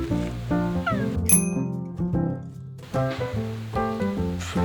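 A black cat at a campsite meows several times up close, with short distinct calls separated by brief pauses and a faint clink partway through.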